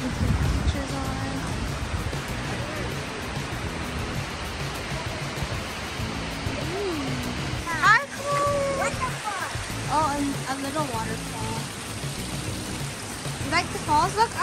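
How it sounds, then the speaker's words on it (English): Shannon Falls sends out a steady broadband rush of falling water near a mountain campsite, with voices talking over the constant roar throughout. "That's the Shannon Falls."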